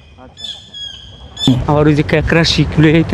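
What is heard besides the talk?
bird calls near duck farm by the sea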